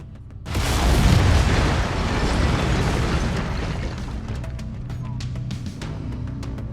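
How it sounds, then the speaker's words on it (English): Mech weapons firing in a video game, a sudden deep roaring blast that swells and then rumbles on at a steady level, with faint mechanical clicks near the end. "Lasers are mapped to Weapon Group 2. Fire them when ready."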